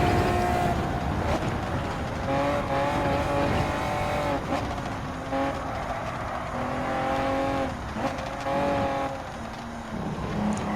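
A 2002 Honda NSX Type R racing on the Nürburgring Nordschleife in Gran Turismo 7: a loud engine note rising and falling through gear changes, with repeated revving and brief dips between shifts, continuous and up close.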